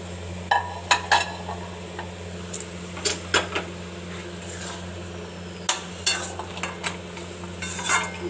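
Fried ingredients for a hilsa curry with kohlrabi and lentil dumplings are tipped into a pan and stirred, giving scattered light scrapes and clinks of utensil against metal over a low steady hum.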